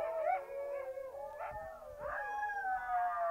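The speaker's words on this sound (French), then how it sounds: "Et puis les chiens se remettent encore à hurler." Sled dogs in Greenland howl together in a wavering chorus, several voices rising and falling with occasional yips, heard at a middle distance with no talk.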